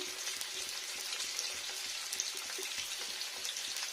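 A bay leaf fries in hot oil alongside potatoes, giving a dense, even crackling sizzle with tiny popping spits, steady and close with no one speaking.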